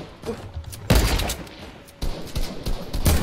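Gunfire in Fortnite during a Toy Story green army men match, arriving as sharp bursts of rapid shots in a few loud clusters separated by brief quieter stretches.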